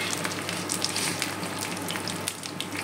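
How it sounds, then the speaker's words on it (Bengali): Nigella seeds crackle in hot oil in a pan with mung dal, a dense spray of close, crisp pops and spits over a continuous low sizzle, with no voices. "আর ওই তেলের মধ্যে একটু কালো জিরে দিয়ে দেবো।"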